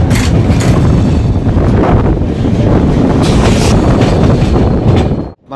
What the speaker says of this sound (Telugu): ఇంతలో నిదానంగా మన ట్రైన్ అయితే స్టార్ట్ అయిపోయింది.